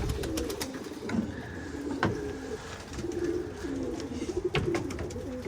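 Pigeons coo steadily and fairly close in a loft or rooftop setting, low rolling calls repeating through the whole stretch with a few sharper bird sounds and light wing or movement noise mixed in.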